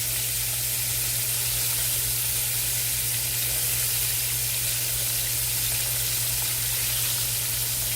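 Chicken frying in a skillet, a loud, steady, close sizzle and crackle of hot oil that continues unbroken throughout.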